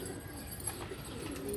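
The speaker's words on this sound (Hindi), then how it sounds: "ये देखें ये भी कबूतर है" Soft, low pigeon cooing murmurs over a steady background hum, fairly quiet and continuous.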